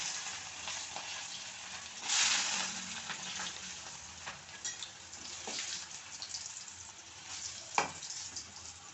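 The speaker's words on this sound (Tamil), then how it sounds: "வெள்ளைப்பூடு அதையும் போட்டு பொறிச்சு எடுத்துக்கணும்" Garlic sizzles and crackles quietly in hot oil while frying for a Tamil sundakkai vathal kuzhambu, with occasional louder pops and a brief stirring scrape.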